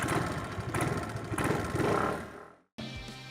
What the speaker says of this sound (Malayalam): Engine ശബ്ദത്തിലും Aprilia വ്യത്യസ്തനാണ്.